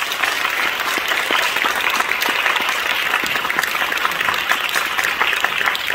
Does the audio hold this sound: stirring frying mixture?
no